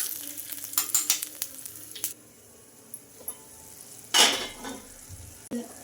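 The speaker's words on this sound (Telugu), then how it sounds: "ఈ నువ్వులు కూడా వేసేసుకొని కొంచెం ఫ్రై చేసుకుందాం" Sesame seeds sizzling in hot oil in a pan for a spinach and onion-chili dish, bursts of crackling and popping with clinks of a stirring spoon, quieter gaps between, one sharp loud splutter midway.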